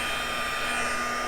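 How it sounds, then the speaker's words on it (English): A heat gun dries coffee-stained paper with a steady, close, loud blowing whoosh that holds constant throughout the short stretch. "you want to be careful with the heat gun, but I just wanted to kind of speed up the drying"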